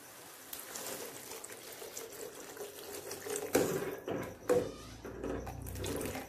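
Water pours into a cooking pot of Maggi soup with tomatoes and vegetables, a steady splashing rush with a couple of louder surges, heard alone at close range.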